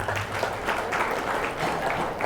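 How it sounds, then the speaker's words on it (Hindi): Audience applauding for children at a talk on married life and parenting, a dense steady wash of clapping lasting a couple of seconds at moderate loudness with no speech over it. "दोस्तों मुझे लगता है हमारे बच्चों के लिए जोर से ताली होनी चाहिए"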